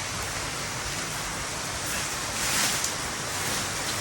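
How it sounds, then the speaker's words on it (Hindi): Heavy rain falls on a village farm as a steady, dense hiss, with no talking. "बहुत तेज़ से बारिश दोस्तों हो रही है"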